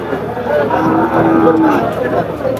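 Bulls mooing nearby at a cattle market, a low drawn-out bellow with a second call, over background crowd chatter.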